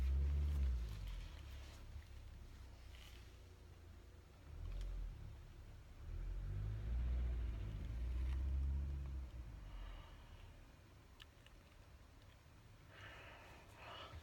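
A car passing outside on the street, a low rumble that swells and fades over several seconds, heard from indoors at moderate distance with no talk over it.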